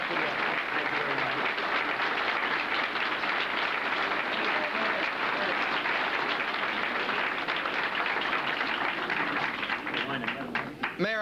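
A roomful of people applauds the mayor, dense steady clapping filling the space from start to finish before it thins out near the end.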